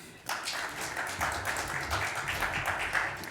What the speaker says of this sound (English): can we give a warm round of applause for John Green